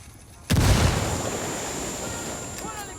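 A grenade blast in the shooter game Ghost Recon: Wildlands, a sudden loud boom that cuts in after a brief pause and rolls off into a long rumbling decay, with faint gunfire near the end.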